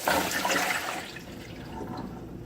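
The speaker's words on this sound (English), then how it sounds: "I'm going to grab a strainer and I'm going to pour these out" Water rushes and splashes steadily as it is poured through a strainer, loud at first and then easing to a softer trickle.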